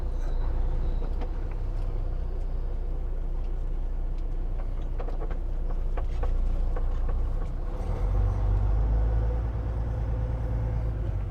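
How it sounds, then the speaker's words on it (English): A truck rolling along a road in East Coast traffic, a steady engine drone and tire rumble throughout, with a deeper, louder low-end surge near the end; no talking. "Big old spot out here, and I can't turn this truck around."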